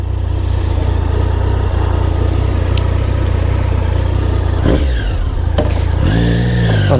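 Triumph Sprint GT 1050 motorcycle fitted with a Scorpion Serket exhaust, its engine running steadily and loud, with a sharp rev surge near the end as the bike sets off down the road.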